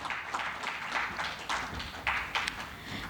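Conference audience applauding a speaker being welcomed onstage, a moderate patter of clapping rising in several uneven surges from a mid-distance crowd, without speech.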